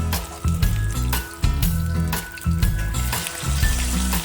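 Okoy fritters frying in hot oil, a steady loud sizzle with bubbling crackle that swells and settles in waves, close up and with no voices.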